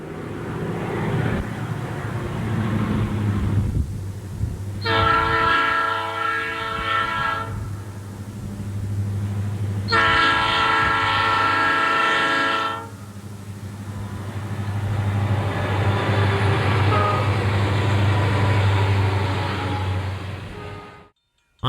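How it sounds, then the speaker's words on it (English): A southbound coal train rumbles past the former Southern Railway depot at Reedsville, North Carolina, with a heavy, continuous roar at close range, while two long horn blasts sound before the noise cuts off abruptly. "he intercepted this southbound time train passing the former Southern Railway depot at Reedsville, North Carolina"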